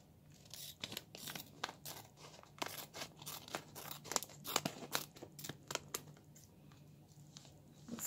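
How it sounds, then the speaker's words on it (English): Scissors cut open packaging in a series of quick snips and crinkling, tearing plastic sounds, close and fairly quiet, with no voices. "Gonna go ahead and cut these open."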